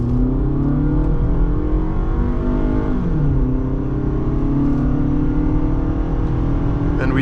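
A 2008 Toyota RAV4 accelerates hard on a straightaway during a test drive, heard from inside the cabin as a loud, continuous engine drone rising in pitch, with a brief dip at a gear change before climbing again.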